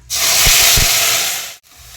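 Ground tomato and ginger paste hits hot oil with whole garam masala in a pan, bursting into a loud, close, continuous hissing sizzle for about a second and a half before it cuts off abruptly.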